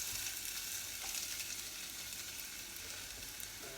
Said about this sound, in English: It's hot, it's sizzling.